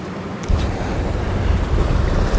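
Surf washing in at a windy beach in New York City where someone is casting a fishing line, with steady broadband wave wash and heavy wind buffeting on the microphone, no talking.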